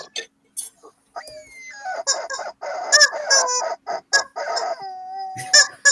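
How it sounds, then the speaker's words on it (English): Hens clucking and squawking in a busy, irregular chorus close by, with short sharp calls and quieter gaps between bursts. "Got a hen pecking contest right now."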